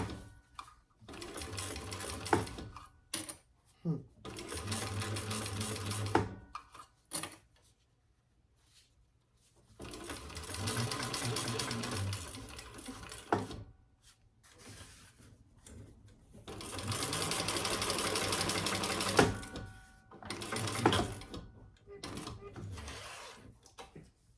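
A sewing machine stitches a seam on a bucket bag in three separate bursts of steady whirring, each lasting several seconds, with quiet pauses and some handling noise between them.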